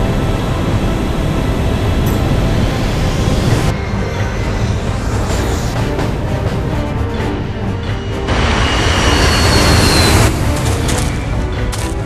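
A train runs continuously with a loud, dense rumble and rattling roar, its character shifting with bursts of brighter hiss midway and near the end; no voices are present.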